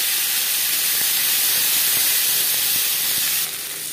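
Onions hit hot oil in a kadai that was just used for frying pakoras, producing a loud, dense, continuous hiss with faint ticks underneath that eases a little near the end.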